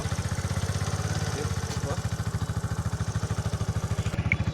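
A motorcycle belonging to a friend idles steadily nearby, its engine pulsing in an even, rapid rhythm that stays loud and unbroken throughout, with no talking over it.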